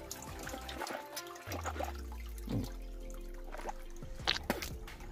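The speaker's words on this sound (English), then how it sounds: "let me try this water out" Water spills from an outdoor inlet pipe in the bush, trickling and splashing with scattered drips and gurgles, fairly quiet and uneven.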